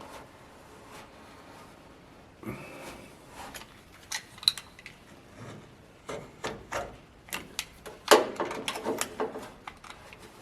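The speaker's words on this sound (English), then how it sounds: "I've had the squeeze out cure overnight, so time to cut it back." Cured sealant squeeze-out is cut and scraped back along the frame of a custom windshield on a chopped rat rod, with quiet irregular scraping and sharper cutting strokes close by, growing busier toward the end and unaccompanied by talk.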